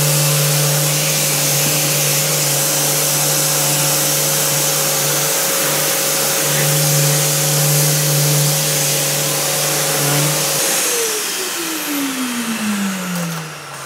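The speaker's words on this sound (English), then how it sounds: "sand our final coat here." Power sander working over the final skim coat of spackling beside a window: a loud, steady whirring hum that runs unbroken, then winds down in pitch near the end.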